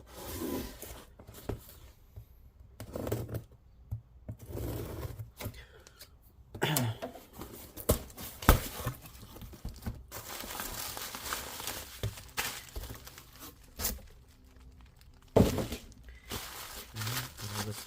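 Bubble wrap packing around a Lenovo ThinkPad P51 laptop being cut open and handled, giving close, irregular crinkling and rustling with sharp snips and taps, and no one talking.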